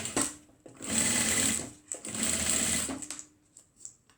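A sewing machine stitches through a thick foam-lined fabric clutch purse in two sustained close bursts of rapid mechanical whirring, separated by short pauses and followed by a few brief stop-start stitches.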